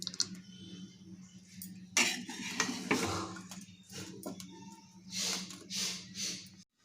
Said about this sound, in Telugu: ఇప్పుడు సర్వింగ్ బౌల్లోకి తీసుకుందాము.